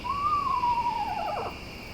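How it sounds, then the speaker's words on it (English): Screech owl giving a single wavering, whinnying call that slides gently downward and trails off, heard alone against a steady night-time hum. "Screech owls are the type that live in holes, basically in cavities of trees."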